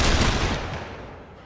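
A barrage of gunfire in the Lamplighter's League video game: a loud, dense burst of shots that starts at full force and then fades into a rolling, echoing decay.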